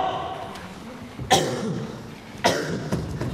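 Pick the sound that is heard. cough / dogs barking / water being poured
cough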